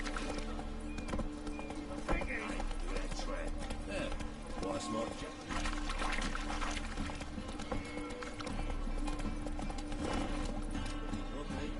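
Hooves of a horse galloping in the video game The Witcher 3 make a steady drumming beat under game music and a talking voice, with a whinny rising briefly near the start.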